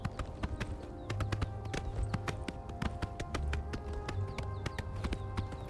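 Horse hooves clip-clopping at a steady riding pace in the video game Oblivion Remastered, a crisp, regular beat of clear near hoofbeats over a low, continuous game background.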